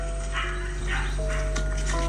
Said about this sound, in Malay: Ni ada bunyi anjing weh.